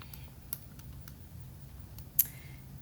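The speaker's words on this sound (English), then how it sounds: "I'm just typing that exact thing in the calculator." Light plastic clicks from calculator buttons being pressed, a scattered handful of quiet taps close by with one sharper click near the end, in a quiet room with no talking.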